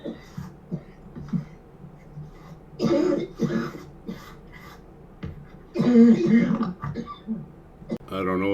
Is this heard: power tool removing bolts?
no